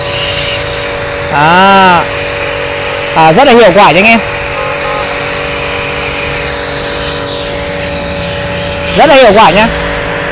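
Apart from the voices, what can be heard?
AMAXGOOLD pressure washer spraying with foam bottle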